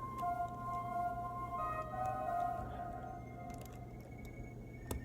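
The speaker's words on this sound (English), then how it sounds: "grand piano pad, which is a preset on Bitwig" A grand piano pad preset on the Bitwig synth, soft sustained tones holding and shifting between a few pitches over a low steady hum, quiet and smooth.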